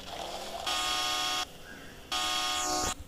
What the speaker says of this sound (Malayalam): ഹോൺ ഇങ്ങനത്തെ ഹോണാണ് ഞാൻ വെച്ചതെന്ന് വെച്ചാൽ.